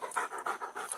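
A dog pants in quick, even breaths, about four or five in a second, faint and close.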